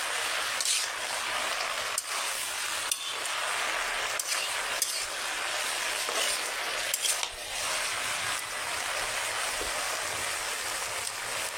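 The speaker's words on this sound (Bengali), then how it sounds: "এই যে শাকগুলা সুন্দর কষতেছি" Pumpkin greens sautéing in a pan of five-spice tempered oil, a steady broadband sizzle running throughout with occasional sharp clicks from stirring, fairly close and continuous, with no talking.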